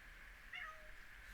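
A house cat lets out a single short, faint meow in a quiet room, over a steady background hiss.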